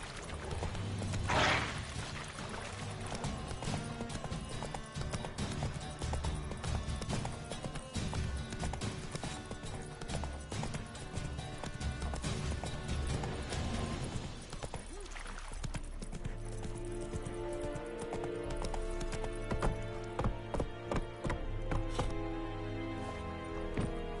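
Roach the horse gallops in The Witcher 3: Wild Hunt, with rapid, steady hoof clatter running throughout and a tonal background layered beneath it.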